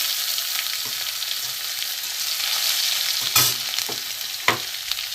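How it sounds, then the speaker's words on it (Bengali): Tempering spices fry in hot oil for an egg and potato curry, giving a bright, steady sizzle broken by a couple of sharp utensil knocks and stirring scrapes against the pan. "আমি ফোড়নটাকে আগে একটু গরম করে নেবো ভালো করে ভেজে নেব"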